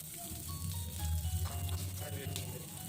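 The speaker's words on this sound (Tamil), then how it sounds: "வெங்காயம் நல்லா வதங்குற அளவுக்கு வதக்கிக்கலாம்." Small onions sautéing in oil in a kadai for chicken 65 gravy: a continuous close sizzle and crackle of frying with a low hum beneath, steady throughout.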